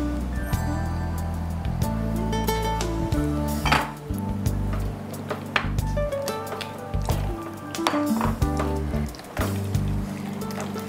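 Jackfruit pulp is mixed with ghee and roasted flour in a pan for halwa, producing a continuous thick squishing and scraping with occasional clinks of a ladle against metal, close and steady.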